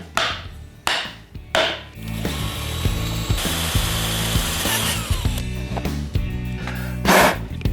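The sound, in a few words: drilling a 5/16 hole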